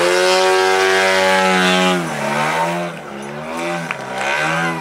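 A loud model airplane engine drones at high pitch while the plane hovers on its propeller at an airfield meet, its tone sagging and rising as the throttle shifts, wavering like a buzzing chainsaw.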